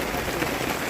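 Heavy rain pours at a campsite, a dense, steady hiss of drops drumming on surfaces with no pauses, loud and close.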